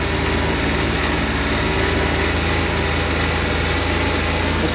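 A car engine with a gasoline direct-injection intake runs steadily at idle during intake-valve carbon cleaning, a constant droning hum with a fine fast pulse, close and loud with no talk.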